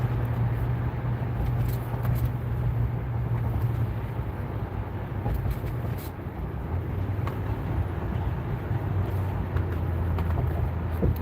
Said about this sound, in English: This car performs very well